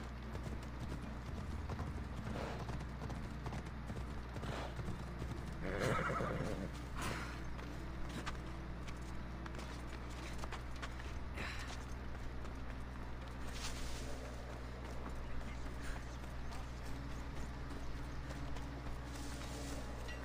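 Horse neighing and clip-clopping hooves ridden along the roads in Assassin's Creed Odyssey, a loud whinny near the middle over steady hoofbeats and continuous game ambience.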